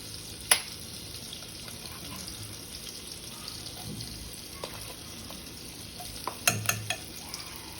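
Chicken wings for a salted egg dish fry quietly in a pan under a soft, steady sizzle, with a few sharp clinks and scrapes of a utensil, close by, and no talk.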